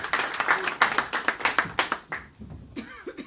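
Applause welcoming an international lecturer at a political coaching and marketing workshop: a burst of close, sharp hand claps that thins out and fades into scattered claps by the end.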